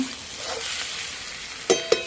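Onions sizzle in a pan over an outdoor wood-fired stove, a steady soft frying hiss broken by two sharp utensil clinks near the end.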